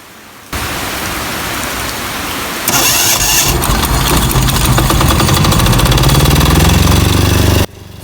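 A diesel generator cranks and catches, its starter whirring before the engine fires into a loud, steady running roar, close up, then cuts off abruptly.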